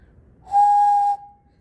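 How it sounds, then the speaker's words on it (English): A kiln-fired clay animal shaker gives one steady, clear whistle lasting about half a second, loud and close against near silence, then cuts off with a faint tail. "Now this one still does whistle."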